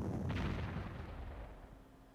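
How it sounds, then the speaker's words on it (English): An artillery bombardment of a city in the strategy game Panzer Corps lands as a deep rumbling boom with a sharp crack near the start, then rolls away into a long, heavy low-end decay, with no voices. "We will start up by bombarding the city."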